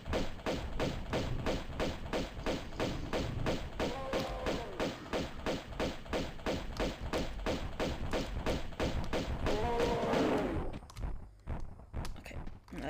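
Normal gun firing in Tomb Raider I-III Remastered: a rapid, regular train of sharp shots, loud and close, running steadily for about ten seconds before breaking into a few scattered hits, with brief talk under it.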